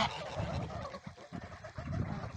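Geese bathing in water honk and gabble in a dense, overlapping chorus at close range, fairly soft and continuous, with no speech.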